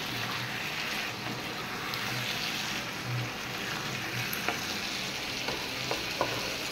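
Rice frying slowly on low heat for chicken biryani, a continuous sizzling hiss with occasional soft stirring scrapes and light ticks, close and unbroken.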